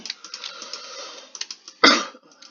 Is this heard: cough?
yes